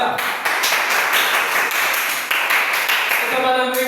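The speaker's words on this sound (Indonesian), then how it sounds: "Oke, kita berikan aplaus untuk kelompok 1 dulu." An audience applauds a presenting group, with a run of quick, fairly loud clapping sustained for several seconds and voices talking faintly underneath.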